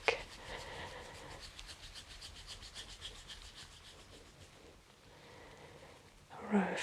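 Soft, steady rubbing of hands working fascia in a scissoring massage technique, a close, quiet rasping swish repeating in a brisk rhythm, with a louder brush at the start and again near the end.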